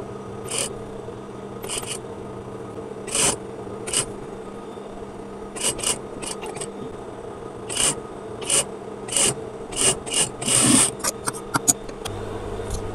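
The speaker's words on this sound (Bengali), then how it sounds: "তো একটা সেলাই দেওয়ার পরে এভাবে নখ দিয়ে সুন্দর করে পাইপিংটা চেঁচে নিতে হবে।" A fingernail scrapes along freshly sewn fabric piping on a neckline: short dry rasping strokes repeated at irregular intervals, close and fairly quiet, with a quicker cluster of scrapes toward the end.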